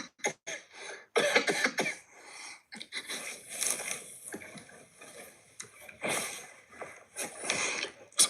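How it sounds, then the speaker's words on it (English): Someone close by coughs in a series of harsh bursts, pausing between fits and then coughing again several times. "oh, sorry, bad cough."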